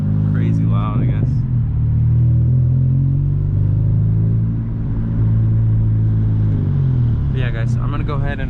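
Deep, droning exhaust rumble of a straight-piped 2021 Honda Civic FK7 hatchback cruising, a steady low-pitched hum that is loud but even, with someone talking briefly at the start and end.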